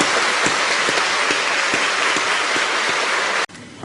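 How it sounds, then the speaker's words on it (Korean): A church congregation at a Presbyterian pastor ordination ceremony breaks into loud, dense, steady applause that fills the room, then cuts off abruptly near the end. "우리 박수로 한번"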